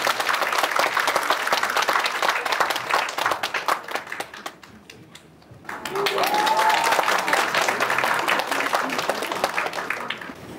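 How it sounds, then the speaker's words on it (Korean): An audience at a citizens' report rally applauds to welcome a pan flute and ocarina duo. Dense clapping fades briefly midway, then swells again louder with a short voice over it. "큰 박수로 맞이하겠습니다."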